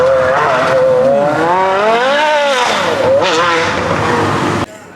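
Supercar pulling out from the Quail during Car Week, its engine loud and close, revving hard through several rising and falling sweeps before cutting off abruptly near the end.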